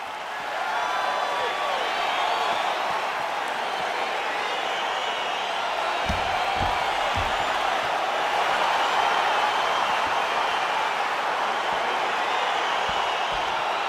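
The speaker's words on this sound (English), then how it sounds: "crowd getting excited as this fight gets underway" A large arena crowd cheers and murmurs steadily as a UFC heavyweight bout gets underway, a continuous broad roar holding at an even level throughout with a few dull thumps partway through.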